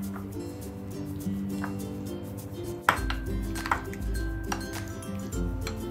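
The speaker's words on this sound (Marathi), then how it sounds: "हे सगळं ना छान असं मिक्स करून घेऊयात." A cucumber, carrot and beetroot salad being tossed and stirred in a bowl for a festive Gudi Padwa platter, with scattered light clinks and scrapes of utensil against the bowl over soft background music.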